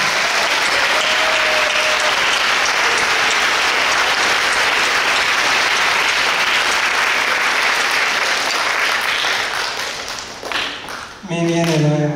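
Sustained audience applause after an evening performance, loud and dense throughout, tapering off near the end as a voice begins speaking.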